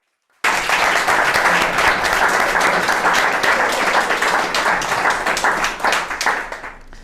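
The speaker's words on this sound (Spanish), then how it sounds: "Si le podemos brindar un fuerte aplauso." An audience at a bookstore book launch applauds a publisher's representative, clapping bursting in suddenly after a moment of silence, then a loud, dense, rapid patter of many hands that thins slightly toward the end.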